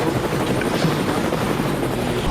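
A camera drone flies overhead with a steady, continuous whirring rotor drone that stays loud and even throughout, with no talking.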